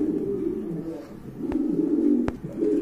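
Pigeons coo close by in soft, repeated throaty calls, with a couple of sharp clicks in between.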